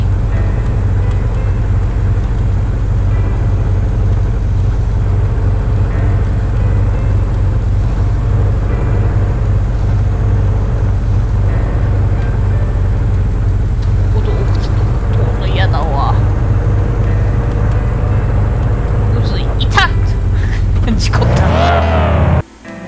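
A loud car engine drones steadily while driving in a video game, a constant low rumble that holds for the whole stretch and cuts off abruptly at the end, with a voice talking over it.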